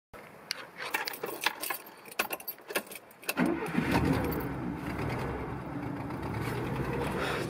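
A 1988 Citroën Axel Entreprise, already warm, first gives scattered clicks and key jangles, then its engine starts and settles into a steady close idle for several seconds.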